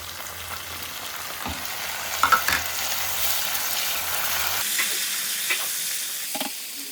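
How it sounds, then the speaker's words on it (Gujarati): Tomatoes fry with onion, green chilli and garlic in a pan, giving a steady close sizzle broken by sharp clacks and scrapes of a spoon stirring. "હવે આ ડુંગળી બરાબર શેકાઈ ગઈ છે, ડુંગળી, મરચાં અને લસણ. હવે એની અંદર આપણે નાખીશું ટામેટાં."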